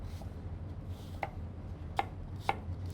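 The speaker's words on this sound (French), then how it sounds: "Et on va détailler des petits cubes" Knife dicing apples into small cubes on a board, a few sparse sharp taps spaced out over a low background hum, close and fairly quiet.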